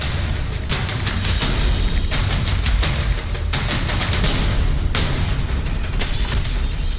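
Explosions and blasts in wartime Ukraine, a dense, continuous roar of booms and bursts with sharp cracks recurring throughout, loud and close with no quiet gaps.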